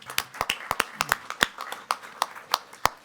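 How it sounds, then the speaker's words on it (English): A small audience at a school board meeting claps in appreciation for board members and the clerk, sparse, distinct hand claps from only a few people, fairly quiet and irregular. "let's give them a big round of applause for our appreciation for all their hard work"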